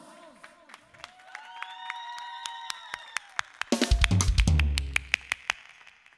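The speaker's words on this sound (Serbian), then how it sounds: "Ajde, aplauz!" At a birthday and engagement party, a short burst of clapping and cheering rises midway through, following music with a steady clicking beat.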